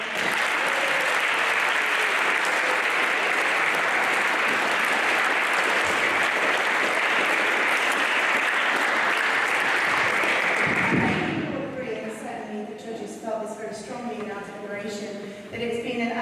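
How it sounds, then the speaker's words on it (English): An audience at a charity debate applauds at length, a loud, dense wall of clapping that fades after about eleven seconds into quieter room sound with talk. "Can we just have one further round of applause for"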